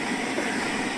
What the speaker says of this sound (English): Took the brakes off and the train fucked off.